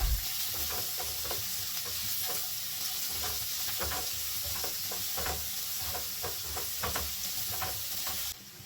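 Garlic, onion and yellow and red capsicum sautéing in oil over a high flame, a continuous bright sizzle with repeated rhythmic stirring scrapes throughout, fading slightly at the very end, with no talking.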